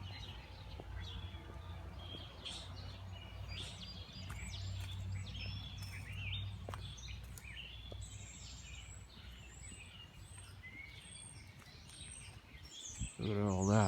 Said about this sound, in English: You can hear the sounds of the birds singing around you